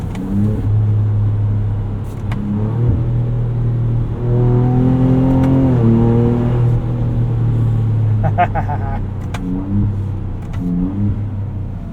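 A 3-litre EcoBoost V6 in a 2024 Ford Ranger Raptor pulls hard under acceleration, a steady low engine drone rising in pitch midway and then settling, heard close from the cabin.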